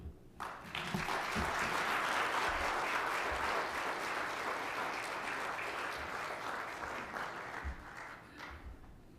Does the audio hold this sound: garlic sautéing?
no